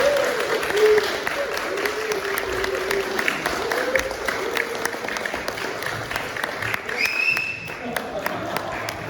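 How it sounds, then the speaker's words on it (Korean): Church congregation applauding at a summer retreat to welcome a guest lecturer, a steady wash of clapping from a large indoor crowd lasting the whole stretch, with faint voices mixed in. "우리 앞에 나오실 때 큰 박수로 한번 사용해 주시겠습니다."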